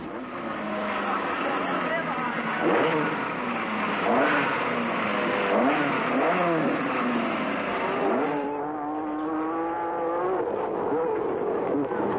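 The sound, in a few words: Stratos rally car engine revving on rally stage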